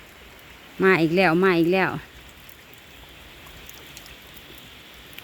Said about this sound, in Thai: พาเบิ่งพาชมบรรยากาศตอนฝนตกยามแรง